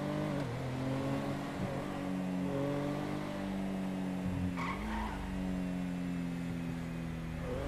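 A car in the video game GTA drives with a steady engine hum, shifting pitch as it accelerates, plus a brief tire skid midway, moderately loud and without talking.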